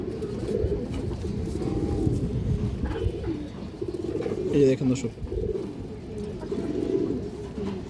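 Lively pigeons with clipped wings coo in low, repeated throaty phrases, close by, while someone talks over them and the birds shuffle and stir.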